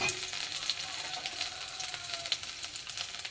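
Grated ginger hitting hot mustard oil with cumin seeds, a bay leaf and dried chilli, giving a bright continuous sizzle with crackling spits, close up and moderately loud, no voices.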